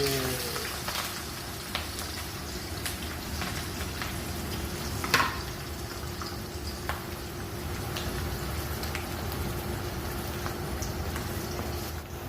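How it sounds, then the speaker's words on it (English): Onions sizzle and crackle steadily in hot oil for chicken karahi, a continuous frying hiss with occasional stirring clicks, close by and moderately loud. "So while frying the onions, you make sure that the onions should be brown."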